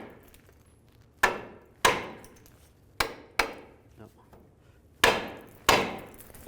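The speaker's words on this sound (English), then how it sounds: "Sometimes you can just take a hammer and give it a tap right here." Six sharp metallic hammer taps on a front CV axle of a 2002-2009 Chevy Trailblazer, spaced irregularly with short pauses, close and loud, each ringing briefly before fading.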